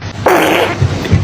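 A loud fart sound effect, a single brassy, buzzing blast lasting about a second that drops into low, sputtering pulses at the end, close and alone with no speech.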